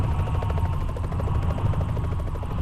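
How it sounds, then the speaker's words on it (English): Helicopter in Splinter Cell Conviction flying close by, a loud, steady rotor thump with fast pulsing beats and a heavy low drone throughout. "The helicopter uses electricity, right? How come it's still in the air?"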